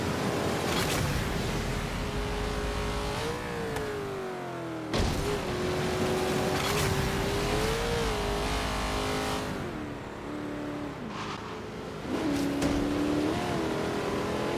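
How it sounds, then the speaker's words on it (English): A Ferrari engine in a Forza racing game drones and revs steadily, pitch rising and falling with gear shifts and throttle, loud and continuous with brief dips between pulls. "This Ferrari is so easy to drive that I almost hate it."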